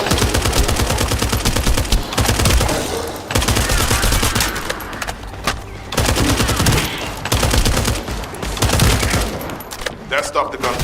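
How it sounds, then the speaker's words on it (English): Sustained automatic gunfire in the video game The First Descendant, dense rapid bursts with brief pauses, loud and close throughout. "That stopped the gunfire."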